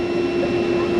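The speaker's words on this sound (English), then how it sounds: "That's an ELT going off. It does it every morning." Aircraft emergency locator transmitter going off somewhere on an airport apron, heard as a steady high electronic tone over a continuous low engine-like rumble and background noise.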